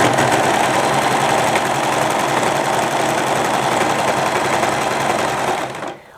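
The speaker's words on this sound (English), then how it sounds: "continue serging while very gently pulling the scrunchie away from the serger" A serger overlocker runs fast and steady while stitching a scrunchie seam, a loud continuous mechanical whir that cuts out abruptly at the end.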